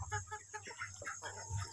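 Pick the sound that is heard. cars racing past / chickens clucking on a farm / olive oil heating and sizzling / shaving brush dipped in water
chickens clucking on a farm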